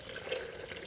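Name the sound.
pouring water into blender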